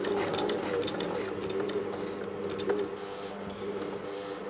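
A Janome J3-18 sewing machine runs steadily as its feed teeth push fabric backwards, giving a constant close mechanical whir with light rattling ticks throughout.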